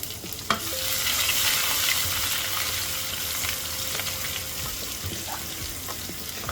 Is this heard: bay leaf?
yes